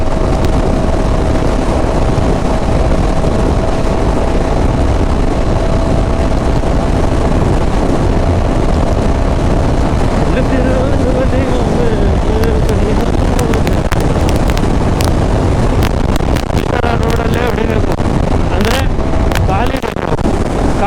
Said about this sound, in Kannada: ವಿಂಡ್ ಬ್ಲಾಸ್ಟ್ ಇದೆ, ಫುಲ್ಲು ಹೆವಿ ವಿಂಡ್ ಬ್ಲಾಸ್ಟ್ ಇದೆ.